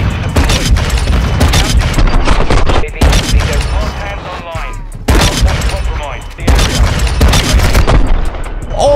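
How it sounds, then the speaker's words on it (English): Desert Eagle headshot gunfire in Modern Warfare 2 comes as loud, booming shots in rapid bursts with a brief pause between volleys. An excited voice shouts over the shots. "the headshot noise is so satisfying"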